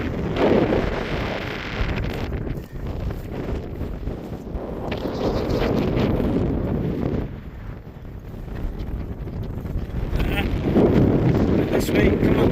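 Strong wind buffets the microphone on an open hillside hike in the Brecon Beacons, heading toward Llyn y Fan Fach, a continuous loud roar rising and falling in gusts with no talk.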